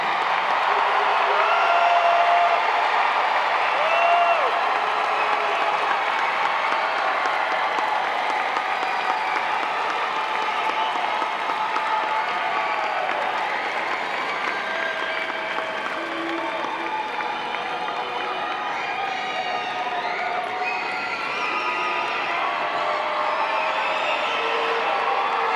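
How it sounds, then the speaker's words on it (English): Large commencement crowd applauding and cheering in a big hall, sustained dense clapping with scattered whoops that holds steady for about 25 seconds and eases slightly toward the end. "salute them with your applause"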